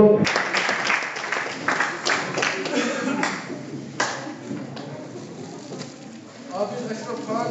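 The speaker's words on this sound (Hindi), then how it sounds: "जोरदार तालियां फिर एक बार हो जाए" Audience applause at a closing ceremony and prize distribution in Baramulla, uneven bursts of clapping that rise and fade, mixed with crowd noise and talk over it.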